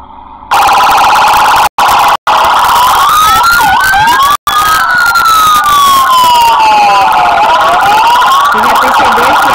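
Police siren in a video game, wailing and sweeping up and down loudly and continuously, broken by a few brief dropouts, resembling a real Brazilian siren.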